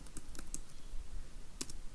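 A command is typed on a computer keyboard: a handful of faint, sharp key clicks spaced irregularly over two seconds against a quiet background.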